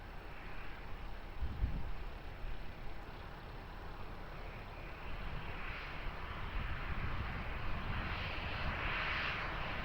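An airplane takes off from runway 20 at Lisbon Airport, a distant, steady jet engine roar that slowly grows louder, with wind noise on the microphone.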